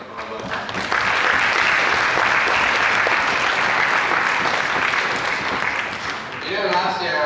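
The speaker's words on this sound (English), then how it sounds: "So you just give us a round of applause for all of them." Audience at a MUTIS meeting breaking into loud, sustained applause, many hands clapping evenly for several seconds before it tapers off and a voice begins speaking.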